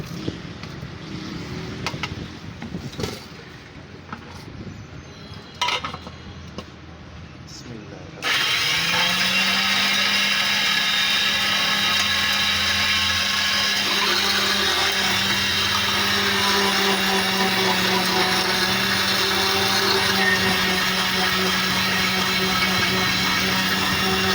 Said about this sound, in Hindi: ग्राइंड करने के लिए तमाम मसाला हम बारबेक्यू का ग्राइंडर में डाल रहे हैं।